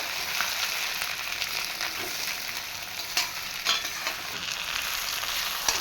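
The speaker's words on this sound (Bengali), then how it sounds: "আমগুলো আমি এক মিনিট একটু ভেজে নিয়েছি" Mangoes frying in a pan with panch phoron spices for chutney, producing a steady, dense sizzle with occasional spatula scrapes and stirs, close and continuous.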